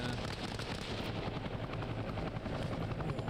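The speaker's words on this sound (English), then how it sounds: "Chopper is now hovering, coming in." A helicopter hovers in the military video game Arma Reforger, its steady rotor thump and engine roar filling the scene continuously and loudly with no pause.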